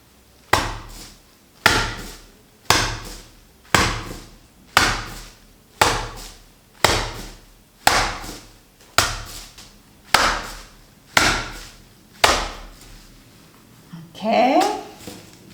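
Wet wool felt is thrown down hard again and again during fulling, landing in about twelve loud, evenly spaced slaps roughly every 1.2 seconds, close up, with softer handling noise at the end.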